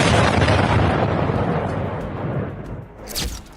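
A strike on a Shahed drone storage base sets off a heavy explosion, a broad roaring blast that fades over a few seconds, followed by a sharper secondary burst near the end.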